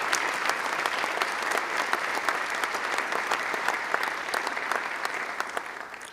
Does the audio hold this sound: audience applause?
yes